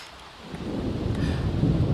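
A thunderstorm in The Sims 4 rolls in as a low, swelling rumble of thunder blended with rain hiss, rising in loudness over two seconds.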